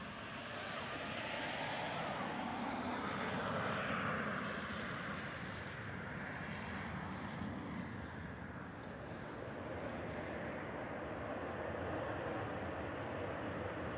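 Airliner arriving from Brussels and landing at Manchester Airport, a steady broad jet roar that swells gently and holds throughout, heavy with wind noise on the microphone.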